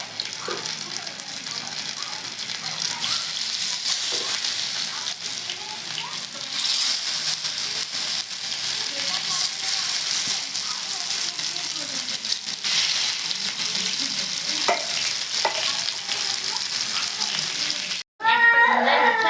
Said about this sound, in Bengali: রান্নাটা আমি সরষের তেলে করবো আপনারাও সরষের তেলেই করবেন এই এক একটা করে এইভাবে ভাজে নেবেন